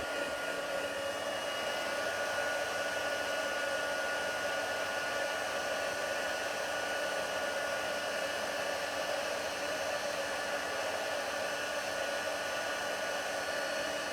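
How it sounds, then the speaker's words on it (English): Heat tool for card making blowing hot air in a continuous steady whir with a fixed motor hum, close and even from start to finish, no voices over it. "We'll bring in our heat tool."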